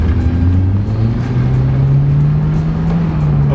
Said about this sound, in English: That rear tire sounds like it's about to blow out, but we are in business.